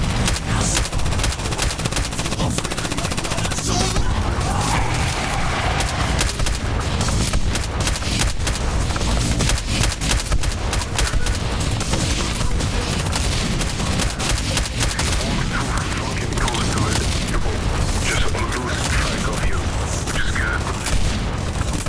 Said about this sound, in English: Morgan, put rockets into it.